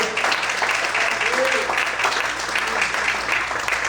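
During a morning church service, the congregation gives sustained, even applause throughout, with a brief voice rising through the clapping.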